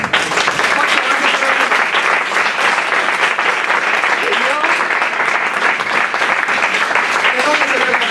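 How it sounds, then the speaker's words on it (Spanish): Audience at an Asturian film festival awards ceremony applauding actor Alfonso Vallejo, a steady, loud wash of many clapping hands lasting throughout with no break. "Alfonso, un aplauso."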